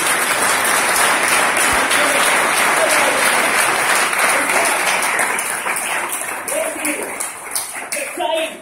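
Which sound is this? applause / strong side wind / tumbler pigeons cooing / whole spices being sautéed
applause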